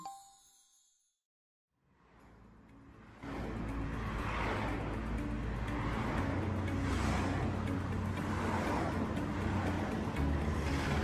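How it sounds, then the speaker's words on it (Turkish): Busy road traffic in a cartoon, with many cars driving past steadily and loudly after a brief bell-like ding at the start, a continuous engine rumble and whoosh filling the scene. "Bak, yolda bir sürü araba gidiyor."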